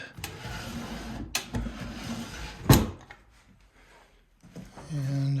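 Dovetailed drawers of a newly finished, waxed Stickley 913 wooden dresser slide open and shut, giving several rubbing slides and sharp knocks, with a louder clunk near the middle.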